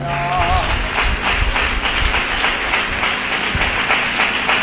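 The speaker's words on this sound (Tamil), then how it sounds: "கைத்தட்டுக்க பார்க்கலாம்." A church congregation bursts into sustained, dense applause that fills the space, a loud, steady wash of many hands clapping, with a voice briefly over it at the start.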